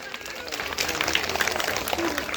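An audience claps at a school day program, a steady patter of many hands that swells partway through, with a voice speaking over it.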